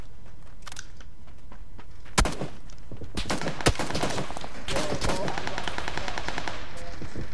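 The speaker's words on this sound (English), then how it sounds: "But I'm being shot at by a sniper." Sniper and automatic gunfire in PlayerUnknown's Battlegrounds crack out in sharp bursts, two loud single shots standing out before a denser rattling volley, close and loud over steady game background.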